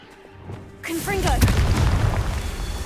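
A Confringo blasting curse goes off in a video game, a loud booming explosion that erupts about a second in and rumbles on with crackling debris, following a faint quieter stretch.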